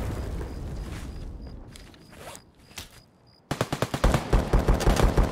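Gunfire in the shooter game Escape from Tarkov: scattered shots and clicks at first, then a loud, rapid automatic burst of evenly spaced cracks in the final seconds.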